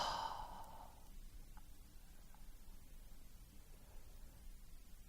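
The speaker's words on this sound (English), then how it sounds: "releasing with a very long and loud exhale" A single long, loud exhale from a guided breathing exercise, a breathy rush at the start that fades into a quiet, steady hiss over several seconds with no talking.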